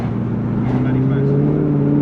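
A Mazda ute fitted with a 3UZ engine and a five-speed A650 automatic accelerates hard, its engine note climbing steadily in pitch from inside the cab, with voices mixed in.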